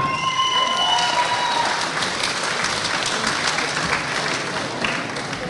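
An audience at a first-lady pageant evening claps loudly and steadily to welcome contestant number one, a dense, sustained wash of applause that holds for several seconds before easing slightly.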